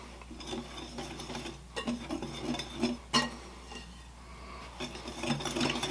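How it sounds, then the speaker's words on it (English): Flour, sugar, salt and cinnamon being whisked together in a bowl for a hummingbird cake batter, with a steady close scraping and rustling of the whisk against the bowl and a few sharper clinks. "we're just going to whisk this together"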